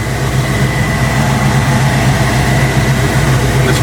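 Vintage Air air conditioning blowing inside a 1970 Chevrolet Chevelle SS, a steady, loud broadband rush of air with a low rumble underneath, constant and unbroken throughout with no talking.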